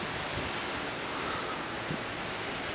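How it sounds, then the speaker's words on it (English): Pacific Ocean surf breaking below a cliff in Cabo San Lucas, a steady broad wash of waves with wind noise on the microphone and no other sound. "this is the Pacific Ocean."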